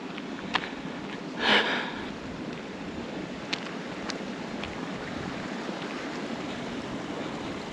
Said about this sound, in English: A little creek coming in.